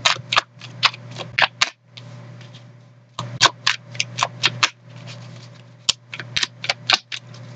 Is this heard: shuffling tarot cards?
yes